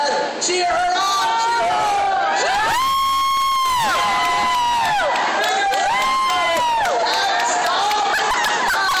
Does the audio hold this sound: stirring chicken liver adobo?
no